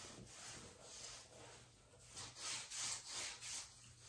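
Scrubbing a surface clean, soap residue coming up, with rhythmic back-and-forth rubbing strokes, close and moderately loud, the strokes growing heavier toward the end.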